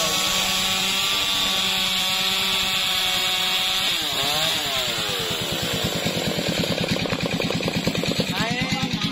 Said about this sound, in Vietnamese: anh cưa cây tràm này nha